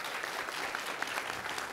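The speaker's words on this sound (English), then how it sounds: "Go ahead and give him a round of applause." A conference audience at a paleo health panel claps for a panelist being introduced, producing an even, sustained patter of applause heard at moderate distance with no voices over it.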